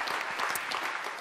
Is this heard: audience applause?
yes